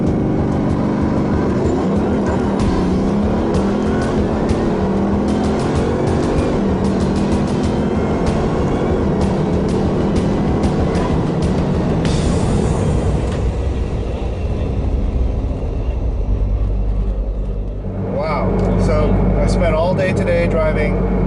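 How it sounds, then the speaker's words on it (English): A Bugatti Veyron Super Sport of about 1,200 horsepower pulls away at full throttle, a loud rising engine roar heard from inside that fades to a quieter rumble near the end, with speech over it. "I'm about to put the throttle all the way down for the first time"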